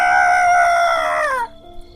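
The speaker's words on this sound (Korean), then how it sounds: "닭 우는 소리가 들려왔어요." A single rooster crows loudly and close by, one long sustained call that drops in pitch and cuts off sharply, followed by near silence.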